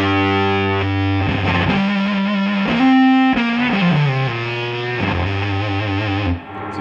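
Electric guitar played through a boutique silicon octave fuzz pedal, giving a thick, heavily distorted tone heavy in the low mids. Sustained notes slide and shift in pitch, loud and alone with no talking.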